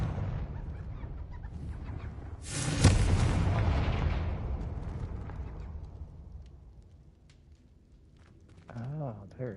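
A Confringo fire-blast spell detonates in a video game with a sudden loud broadband burst, followed by a long rumbling decay that fades over several seconds, while a voice talks faintly underneath.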